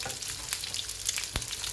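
Chicken pieces sizzle and crackle as they fry in hot oil, a close, continuous spitting texture with sharp pops scattered throughout and no talking.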